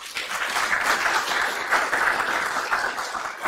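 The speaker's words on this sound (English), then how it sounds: "So give a big applause." An audience at a university agriculture postgraduate showcase breaks into warm sustained applause, many hands clapping together for several seconds at a steady even level.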